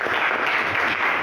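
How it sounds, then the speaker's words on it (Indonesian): Brief audience applause in a university lecture or teaching session, a short burst of steady dense clapping, moderately loud and continuous with no voices over it. "Tepuk tangan dulu."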